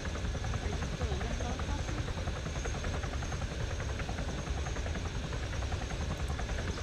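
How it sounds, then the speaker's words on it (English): Helicopter in the video game Arma, a steady loud rotor and engine drone with low rumbling throb running throughout, with voices talking over it. "The chopper's not setting down like it should."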